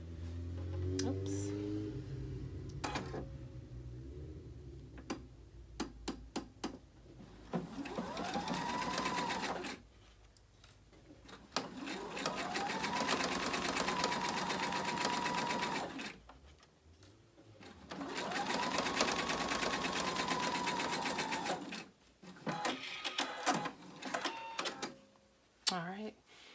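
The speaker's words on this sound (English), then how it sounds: "you just take it to your sewing machine" A sewing machine stitches bias binding onto a hem in several bursts of rapid, steady whirring, separated by pauses filled with handling clicks and rustling; a person talks during the gaps.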